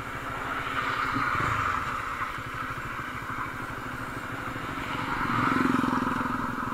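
A Bajaj Dominar 400 motorcycle ridden along a highway gives a steady, close engine drone with a low, throbbing pulse that swells louder near the end. No one speaks.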